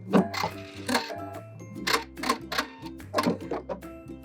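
A sewing machine backstitches at the end of a seam while sewing chenille fabric, producing close, rhythmic bursts of mechanical clicking and clatter in short runs, with no voices.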